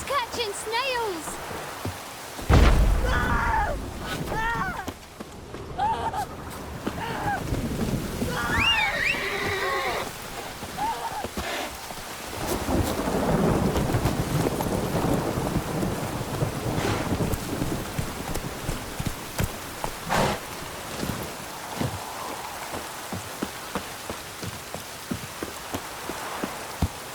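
A thunderstorm with rain in The Witcher 3, steady rainfall and rumbling thunder under game dialogue and character voices throughout.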